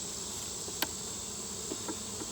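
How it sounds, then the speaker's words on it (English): Honeybees buzzing steadily around a brood frame with queen cells in a queenless hive, a continuous close hum with a few faint knocks as the frame is shaken. "I'm gonna go ahead and shake those bees off of there"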